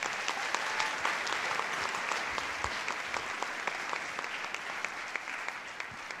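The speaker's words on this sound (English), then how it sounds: "Let's give them one more round of applause." A school audience applauds students at a holiday band concert, with dense, steady clapping that holds at a constant level from start to finish and no speech over it.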